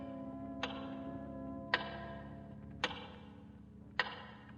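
A big tower clock ticks slowly and steadily, four loud metallic strikes about a second apart ringing out over a low humming background, with no voices.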